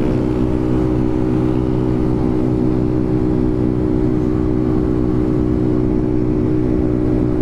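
A modified car driven hard on a night ride, its engine holding a loud, steady, close drone with a dense low rumble throughout and no talking.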